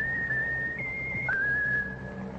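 A pet bird in a radio comedy skit whistles a steady, clear tune, a single sustained pitched line that shifts between a few notes over a couple of seconds, with no talk over it.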